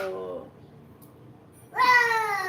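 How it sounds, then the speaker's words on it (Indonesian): A black cat lets out a short meow, then after a quiet pause gives a louder, longer drawn-out meow close by. "Kucing hitamnya datang."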